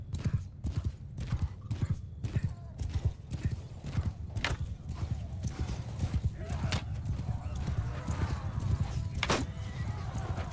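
Horses gallop across a battlefield in Mount & Blade II: Bannerlord, a dense rhythmic clatter of hooves with occasional neighs, close and continuous under game ambience.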